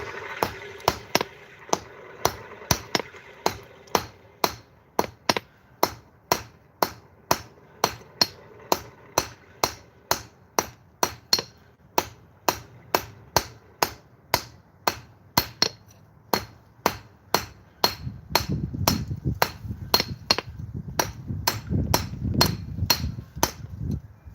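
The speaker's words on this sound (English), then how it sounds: "I'm going to forge this tenon close to size" A hammer forges a metal tenon with a long, steady series of sharp, ringing blows at an even rhythm, loud and close, with a low rumbling noise joining beneath the strikes toward the end.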